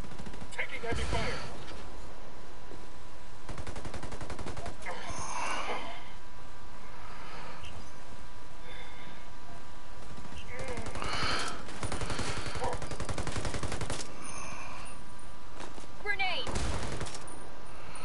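Heavy gunfire in the Ghost War online shooter comes in repeated loud automatic bursts with short pauses between them, spread across a tense firefight, with occasional breathing and voices mixed in.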